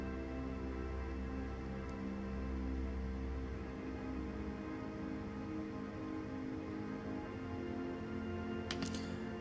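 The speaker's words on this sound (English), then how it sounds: "Both are, I think, a symphony kind of pad." A slow, held symphony-style synthesizer pad with layered tones swells gently and continuously, sounding dark, somber and church-like, with a faint click near the end.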